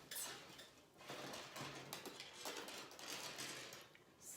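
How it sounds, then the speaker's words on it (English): Beads being handled for threading make faint, close clinks and small rattles, a continuous light clatter throughout with no voices. "I've got all my lovely beads here"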